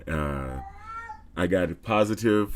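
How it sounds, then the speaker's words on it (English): A pet cat meows in a long drawn-out call followed by a shorter one, close and clear, with a person speaking briefly over the end. "That's from my cat."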